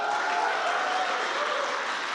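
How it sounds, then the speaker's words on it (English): Steady applause from an audience at a game awards ceremony in Jyväskylä, Finland, a dense even wash of clapping at constant loudness throughout. "great Jyväskylä applause"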